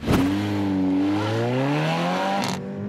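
A car accelerating hard on a race track, its engine note climbing steadily in pitch through the rev range, loud and close for about two and a half seconds.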